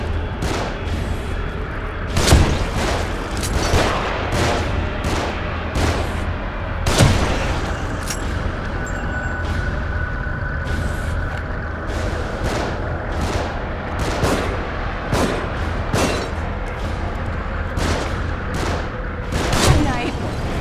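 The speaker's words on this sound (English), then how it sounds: "They're shooting from above." Enemies shoot from above in The Evil Within video game, scattered sharp gunshots cracking out every second or two over a low rumbling background, with a voice speaking at times.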